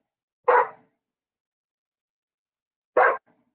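A dog gives two short, sharp barks a few seconds apart, nearby and clear against an otherwise silent background.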